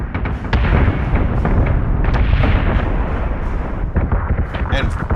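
Heavy ship weapons fire in Battlestar Galactica Deadlock, dense rolling booms and cannon blasts layered continuously and loud, with sharp bursts and clicks on top and a voice talking over the barrage.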